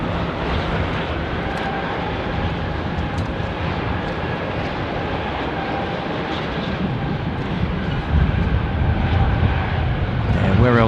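A Jetstar airliner takes off at Sydney Airport, its engines producing a loud, continuous rushing roar that grows heavier and deeper in the last few seconds, with people talking over it.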